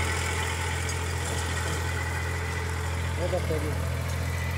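A modified Massey Ferguson tractor engine runs loud and steady for trench sugarcane work, a constant deep rumble with someone talking over it.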